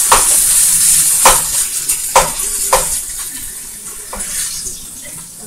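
Meat sizzles loudly in a hot pan, a steady bright hiss broken by several sharp clanks and scrapes of a utensil against the pan.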